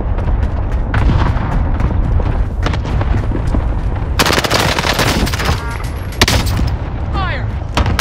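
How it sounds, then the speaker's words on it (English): Artillery cluster strike barrage pounds the area in Call of Duty: Warzone, a dense, loud roar of overlapping blasts and gunfire running throughout, with the heaviest burst of explosions crashing in near the midpoint. "Cluster strike arriving."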